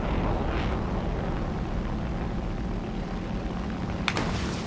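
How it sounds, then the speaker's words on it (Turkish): Jet aircraft engine roar in the War Thunder combat flight game, a steady broad rumble throughout with a brief sharper burst near the end, no talk. "Abi jet uçağı ya."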